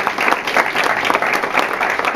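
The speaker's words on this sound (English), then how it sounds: "Please give him a round of applause" Applause from an audience at an entrepreneurs' gathering, many hands clapping in a loud, close, sustained burst that holds steady throughout.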